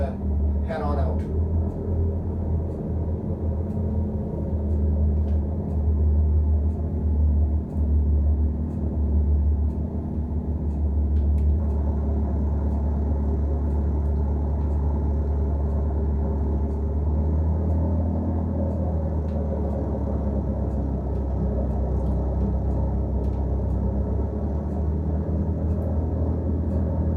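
An aircraft taking off in the X-Plane flight simulator: a steady low engine drone and rumble that holds constant and loud, with a brief rising whine near the start and a slight shift in tone partway through.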